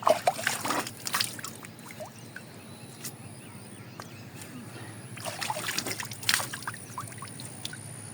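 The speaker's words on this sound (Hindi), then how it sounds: "ठंडा पानी मुंह पे मार लेते हैं" Two short bursts of close splashing as cold water is splashed on a face, separated by a quiet stretch with soft trickling in between, outdoors in a Punjab village.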